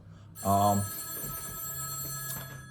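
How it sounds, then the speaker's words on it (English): A telephone bell rings once, loud and close, in a short burst followed by a lingering hum in a quiet room. "sorry, the phone's ringing"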